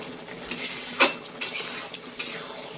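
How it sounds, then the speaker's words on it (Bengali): Spoon stirring a mixture of paneer cheese and ghee in a pan, a few separate scraping clinks and knocks against the metal, quiet and close, with no talking. "তো এবার আমি এটাকে একটু নাড়িয়ে চাড়িয়ে একটা জায়গায়"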